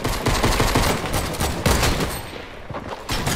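Rapid video game gunfire, dense bursts of loud shots and rattling automatic fire filling the whole stretch, close and harsh with no talk over it.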